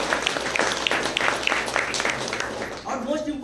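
Applause from the audience at a Raipur LDP programme event: dense clapping fills the hall, with a voice speaking over it near the end.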